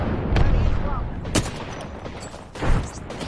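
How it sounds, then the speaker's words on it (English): Battle royale gunfire surrounds the player under attack, with sharp gunshot cracks and bursts, two loud reports standing out over a dense, noisy background of game combat. "They're shooting at me."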